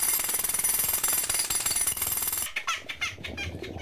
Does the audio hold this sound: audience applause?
no